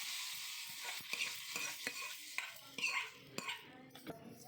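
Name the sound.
mashing cooked drumstick leaves with a wooden churner (mathu)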